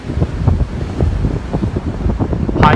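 Breezy wind at Ortley Beach near high tide, a steady loud rush of gusts buffeting the microphone over surf, continuous throughout with a sharper gust near the end.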